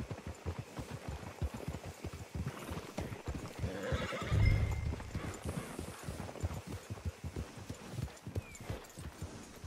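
Horses in Red Dead Redemption 2 walk with a steady, close clip-clop of hooves, and one lets out a loud neigh midway through.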